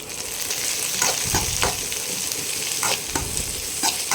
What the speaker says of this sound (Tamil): வெங்காயம் நல்லா வெதந்துட்டுருக்கு, நல்லா வேகட்டும்.